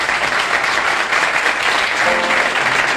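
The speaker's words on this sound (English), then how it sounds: "Let's give her a hand." An audience applauds a show's star, a dense, steady burst of clapping that stays loud and even throughout, close and without talking over it.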